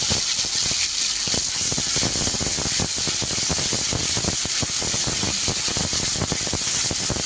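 Ginger, cumin and chili pastes frying in hot oil, giving a steady, close sizzling hiss with dense crackling spatters throughout.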